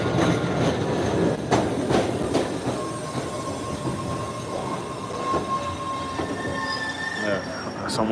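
MBTA Red Line subway train of 1800-series cars at a station at night, wheels squealing in loud, sustained high-pitched tones over a constant rumbling roar, with sharp clanks early and the squeal rising toward the end.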